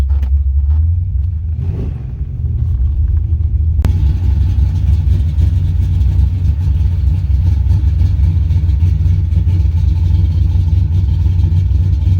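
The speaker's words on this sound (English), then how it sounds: "Alright, I had to idle her up a little bit." A 1986 Chevrolet C10 pickup truck engine idles with a steady low rumble, loud and close, raising slightly in pitch partway through and holding there.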